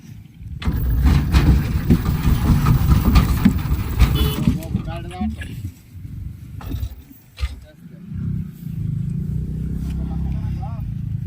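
A Mishu auto rickshaw engine strains and revs while driving through dry river sand on the Jamuna riverbed, loud and rough at first, then settling into a lower steady drone, with someone talking over it.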